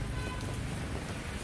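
Heavy monsoon rain pours down on a Hanoi street, a dense, steady hiss of drops striking the pavement that stays loud and unbroken throughout, with no voices.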